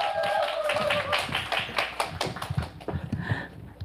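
Audience applause at a Nu Skin business gathering in Korea as a speaker is welcomed on stage, a dense patter of many hands clapping at close range that swells and then thins toward the end.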